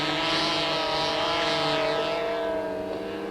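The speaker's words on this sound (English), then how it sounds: "can the geese even hear the guy through the walkie-talkie if that plane is making that much noise" A propeller plane in an old film drones loudly and steadily with a rough engine buzz, its pitch slowly shifting as it flies close by, no voices.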